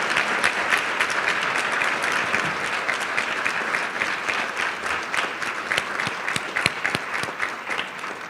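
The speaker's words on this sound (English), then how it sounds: "please join me in one last round of applause for all of these outstanding young people" An audience applauds students at a Salute to Success recognition ceremony, a dense, sustained round of clapping that fills the whole stretch without voices.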